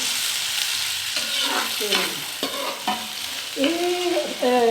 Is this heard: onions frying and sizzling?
yes